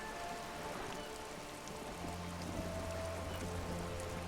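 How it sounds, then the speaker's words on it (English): In the video game Disco Elysium, rain patters steadily on wooden boards and the surrounding water, with a low hum coming in partway through. "rain keeps falling down on the wooden boards she's standing on and on the water around you"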